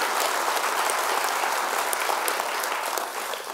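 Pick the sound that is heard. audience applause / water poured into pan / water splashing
audience applause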